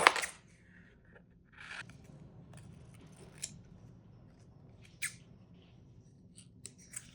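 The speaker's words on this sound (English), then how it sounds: "I'm going to trim some of these up" Scissors trim printed inkjet paper images for a gel plate transfer project, making a handful of crisp, separate snips spaced a second or two apart, close by in a quiet room with no talking.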